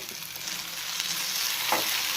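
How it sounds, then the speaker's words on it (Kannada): Tomatoes and mint sizzle steadily in a hot pan for tomato chutney, a continuous close frying hiss with faint stirring scrapes and no voices. "ಈಗ ಇದನ್ನು ಚೆನ್ನಾಗಿ ಫ್ರೈ ಮಾಡ್ಕೋಬೇಕು"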